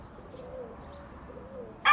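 Pigeons coo softly in a tower loft, low and somewhat muffled, with a sudden sharp burst of noise right at the end.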